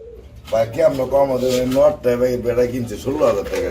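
A pair of pigeons, one male and one female, are kept for sale. They give repeated, close, throaty coos in a steady rolling rhythm.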